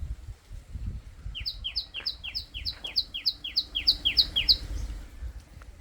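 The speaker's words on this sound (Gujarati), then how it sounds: "જો પક્ષી બોલાણ માથે" Birds chirp in a quick, regular run of bright repeated notes from overhead in a garden, clear above a low rumble of wind or handling noise.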